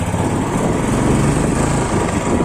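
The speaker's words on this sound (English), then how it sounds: "EFI 350cc engine" A Royal Enfield 350cc EFI motorcycle engine runs steadily at idle, a loud, close, even rumble with a constant mechanical buzz and no speech over it.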